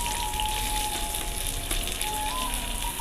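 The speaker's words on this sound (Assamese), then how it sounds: "পিঁয়াজখিনি মই অকণমান ভালকৈ ভাজি ল'ম।" Onions fry in hot mustard oil in a kadai with a dried red chilli, a steady bright sizzle with fine crackle that runs unbroken and close, with no voices.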